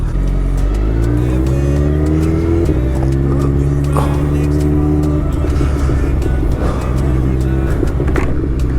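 A Suzuki Hayabusa superbike engine revs and pulls through gears on a night ride in Kolkata, its loud, steady drone rising in pitch in repeated sweeps, close and continuous for the whole stretch.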